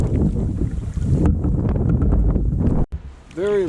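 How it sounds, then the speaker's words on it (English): Wind gusts buffet the microphone while a canoe is paddled on a lake in Algonquin, a loud rushing roar with faint water sounds underneath, briefly cutting out near the end, with a voice speaking over part of it. "the wind is really helping here"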